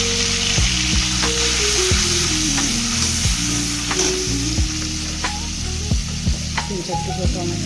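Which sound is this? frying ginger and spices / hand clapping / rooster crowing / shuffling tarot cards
frying ginger and spices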